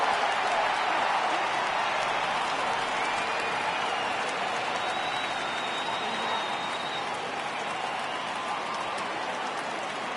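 Simulated baseball stadium crowd in MLB The Show 18, Cubs versus White Sox: a dense, steady roar of cheering and clapping that stays loud throughout, with no clear individual voices.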